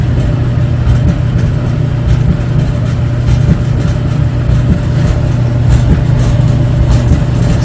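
A repaired clothes dryer runs with a steady low hum and rumble, its drone continuous and fairly loud with faint rattling ticks scattered across it.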